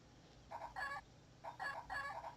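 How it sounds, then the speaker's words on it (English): A lone chicken in the Amiga adventure game Gobliins 2 gives a few short, clear clucks in two quick bursts with a brief pause between, fairly faint and with nothing else around it. "Poor little chicken, standing there all on his own."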